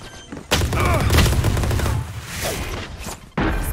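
A grenade blast in Valorant, a tactical shooter, with a sudden loud burst rolling into sustained crackling gunfire and booms, then a second sharp hit near the end; no talking.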